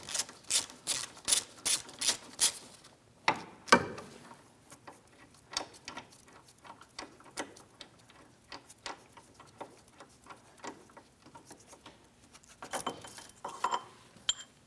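Mounting bolts on the rear backing plate of a 2007-2014 Ford Edge are worked loose with a ratchet from the inboard side, a rapid series of close metallic clicks and clinks with gaps between.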